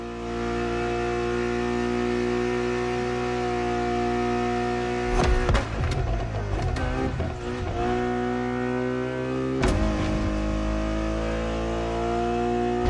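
A Ferrari Enzo supercar engine in the racing game The Crew Motorfest, droning steadily at a constant pitch, then revving hard in a rough burst midway and again briefly near the end, loud and with no voices.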